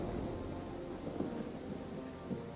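Rain and thunder in the strategy game Three Kingdoms Total War: a low, continuous rumble with a steady rain hiss, heard faintly and without speech.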